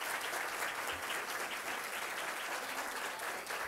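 An audience at a legal seminar on the Civil Code applauds a former senator, dense, even clapping from many hands, steady and fairly distant throughout.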